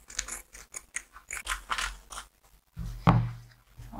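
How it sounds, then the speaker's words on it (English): Scissors cut open the side of a flared fabric panel for a peplum, giving a run of short crisp snips followed by a louder, longer cut near the end, alone without talk. "So I'll just go ahead and cut open this side."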